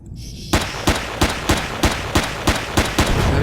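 A tiny little gun in the video game Empyrion fires about nine evenly spaced sharp shots, loud and close, with no talking.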